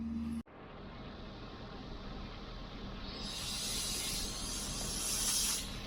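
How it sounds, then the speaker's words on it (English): Water sprays from a new garden hose nozzle outdoors, a steady broad hiss that holds for several seconds and grows brighter and louder partway through, with no talking. "Okay, new hose on, new nozzle. It's fired up."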